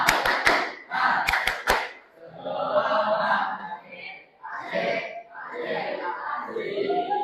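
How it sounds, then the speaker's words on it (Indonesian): A group does an Indonesian spirit clap (tepuk semangat) at a school PE session: sharp bursts of unison clapping open the clip and are followed by the group chanting and voices talking. "Nah, kita tepuk semangat dulu ya"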